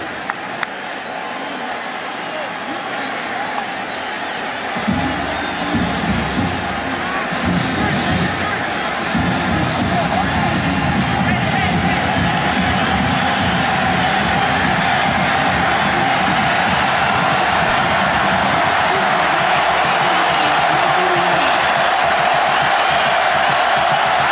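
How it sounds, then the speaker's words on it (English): A packed stadium crowd roars during the 2010 Auburn versus South Carolina college football game, a loud, sustained wall of cheering and yelling that swells early and holds steady throughout. "The crowd right in Stephen Garcia's ear."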